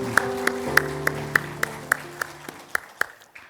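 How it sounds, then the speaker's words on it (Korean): Church congregation at a Sunday service in a Korean church in Jeonju clapping together in a steady unison beat, about a dozen sharp claps roughly evenly spaced over sustained keyboard or organ tones. "우리가 다 같이 박수 한번 하겠습니다."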